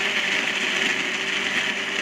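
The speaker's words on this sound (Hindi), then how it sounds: "तकरीबन 1 गिलास के करीब पानी ऐड कर देंगे और इस ब्लेंडर को चलाएंगे।" A blender whirs as it mixes raw mango with about a glass of water for sharbat, a loud, steady motor drone that runs without a break.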